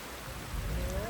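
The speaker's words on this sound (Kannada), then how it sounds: "ಯಪ್ಪ ಮಳೆ ಬಂತಲ್ಲಪ್ಪ, ಮಳೆ ಬಂತಲ್ಲಪ್ಪ" Rain begins falling during a heat wave as a steady, close wash of broadband patter, continuous across the short stretch with faint voices underneath.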